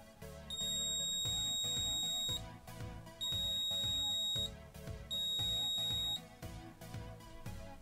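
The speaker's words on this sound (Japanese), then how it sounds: "コンパレーターがオンになるとブザーが鳴るようになりました。" A buzzer driven by a comparator circuit with open-collector output sounds in three long piercing beeps, each about one to two seconds, separated by short gaps, loud and close over a low background hum.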